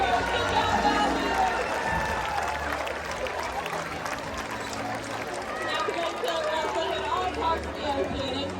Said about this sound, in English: Let's give a big round of applause for our volunteers.